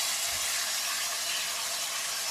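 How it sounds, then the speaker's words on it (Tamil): Chopped beans, carrot and brinjal frying together in hot oil give off a steady, close, dense sizzling hiss that holds evenly for the whole stretch with no voices. "பீன்ஸு கேரட்டு கத்திரிக்காய் எல்லாமே போட்டுக்கேன் ஒரேடியாக போட்டுக்கேன் போட்டுட்டு அதிகம் நல்லா எண்ணெயில் வச்சுக்கிறேன்"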